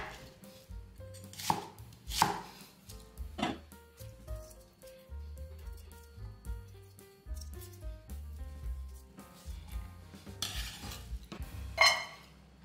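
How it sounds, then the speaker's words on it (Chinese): A knife cuts half an onion into chunks on a board, giving uneven, close taps and thuds with a few sharper chops spread through. Quiet kitchen clatter sits underneath, and no one talks. "把洋葱切成角状。"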